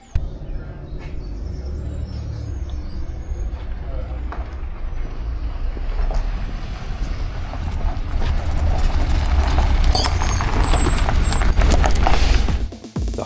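A bus engine rumbles low and steady at a stop near Glastonbury, swelling louder as the vehicle draws close, with a sharp hiss of air brakes near the end before the sound cuts off.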